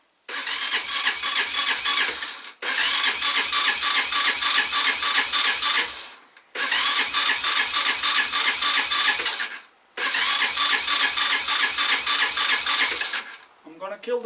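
A Hanway Fighter 125cc motorcycle with the choke on, cranked by its electric starter in four long bursts of a few seconds each, with short pauses between them. Each burst is a loud, close, rapid chugging churn, and the engine does not catch.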